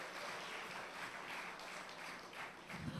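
A festival stage audience applauds after a theatre company's performance at Carifesta, producing a steady, moderately faint wash of clapping from a crowd throughout.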